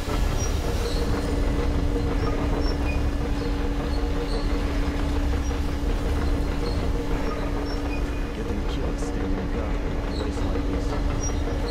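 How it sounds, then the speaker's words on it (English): Loud, continuous mechanical rumble and grinding of a railway turntable starting up in the video game Metro Exodus, a steady heavy drone filling the whole stretch with faint metallic squeals over it. "Attention! The turntable is switching on."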